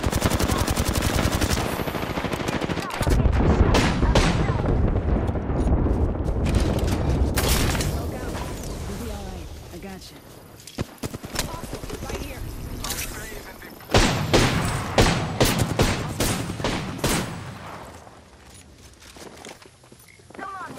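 Video game gunfire crackles in dense, rapid machine-gun bursts and scattered shots, loud and sustained with short lulls, mixed with footsteps and mechanical clatter while players talk over it.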